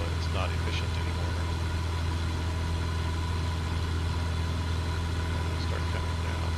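Aircraft engine in Microsoft Flight Simulator 2024 droning steadily as the mixture is leaned, a constant low hum with a faint upward RPM shift, faint voices beneath.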